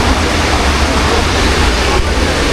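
Hot spring water flows and splashes steadily in a constant loud rush at a pool in the Himalayan hills, heard close with no clear talking over it.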